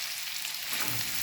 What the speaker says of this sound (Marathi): सोयाबीन व्यवस्थित फ्राय झालेलं आहे